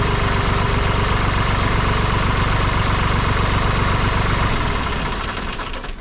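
A small three-cylinder John Deere tractor engine idles steadily with a rapid, even chugging thud, loud and close, fading somewhat in the last second.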